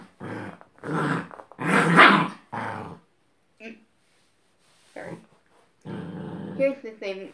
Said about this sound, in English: He doesn't bite, but he'll growl and try to make you think.